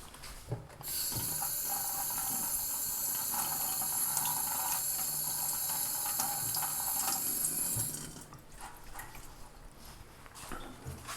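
Water from a kitchen tap pours steadily over chicken stock bones for about eight seconds, a close bright rushing stream that then cuts off, leaving quiet handling noises.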